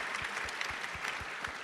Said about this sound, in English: Let's give that some applause.